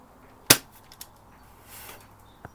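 A P698 BB gun fires one sharp, loud shot at a snowman target outdoors, with a few fainter clicks and a soft rustle afterward.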